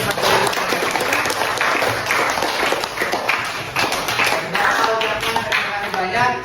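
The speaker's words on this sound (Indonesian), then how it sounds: "Aplaus untuk kita semua." Applause rings out in a classroom at the close of a lesson: a dense, steady wash of many hands clapping at once that holds for the whole stretch, with voices mixed in underneath.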